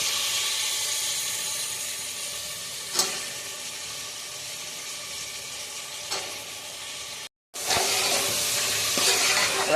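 Carrot, beans, potato and soaked peas sizzle loudly in a hot pan as they are stirred and sautéed for vegetable biryani, with a steady hiss, occasional scraping knocks and a brief silent gap.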